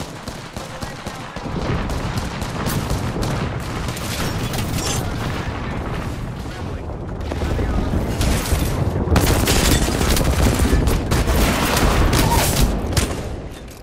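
Dense gunfire in Apex Legends crackles continuously, with rapid overlapping shots and booms that swell louder in the second half.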